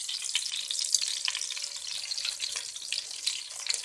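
Chicken legs shallow frying in oil in a pan, a dense, continuous crackling sizzle heard close and alone, with lively popping spatters throughout.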